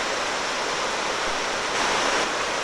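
Water rushes steadily along a creek on a nature trail, a loud, continuous broadband wash with no pauses and no voices.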